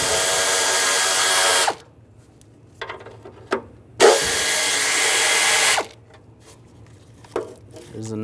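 Power tool driving a 10mm socket off exhaust manifold nuts on a 2013-2016 Dodge Dart, two loud sustained whirring bursts separated by quieter gaps with small clicks and handling noises.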